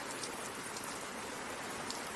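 Rain beats against a building's windows in a steady, dense hiss of drops, faint and constant with no pauses throughout.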